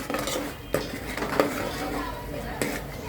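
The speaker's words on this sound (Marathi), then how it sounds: "आणि जे कोथिंबीर, आलं लसूण टाकलेलं तेही मी ह्यामध्ये मिक्स करते." Metal spoon scraping and clinking in a pan while masala with coriander, ginger and garlic is roasted in oil for Kolhapuri fish curry, with a few sharp knocks over a steady close clatter.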